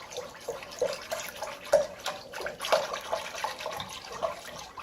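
Chicken brine is stirred in water, with soft sloshing and intermittent small splashes and clinks repeating in an uneven rhythm, close and fairly quiet.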